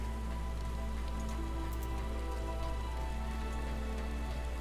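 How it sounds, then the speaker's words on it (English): Steady rain falls on surfaces in the video game Final Fantasy XIV, a continuous even patter with a low background hum and no speech over it. "Oh, it's raining."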